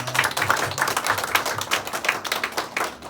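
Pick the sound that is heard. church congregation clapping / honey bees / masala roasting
church congregation clapping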